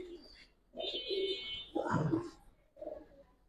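A pair of Bagha pigeons coo nearby in soft low rolling bursts with a brief higher note, fairly faint and separated by short gaps.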